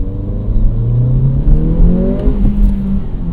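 A 2023 Acura Integra with a manual gearbox revs up steadily under acceleration, its engine drone climbing in pitch before a clutch-in gear shift briefly breaks the note, heard close from inside the cabin with no talking.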